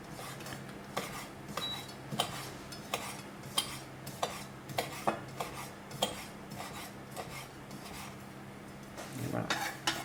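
Knife finely mincing a grilled chili pepper on a cutting board in a kitchen: a run of quick, uneven taps and scrapes against the board, fairly close and soft, with a voice speaking quietly underneath.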